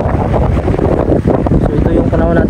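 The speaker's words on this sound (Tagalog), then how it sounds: "malakas lang yung hangin" Strong wind buffets the microphone outdoors on a Greenland harbour where two ships sit side by side, a loud continuous low roar with rumbling gusts throughout.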